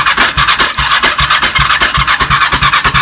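A Kawasaki ER5 motorcycle engine runs rough close by, loud and uneven, with a rapid lumpy pulsing and raspy mechanical chatter throughout and no voices.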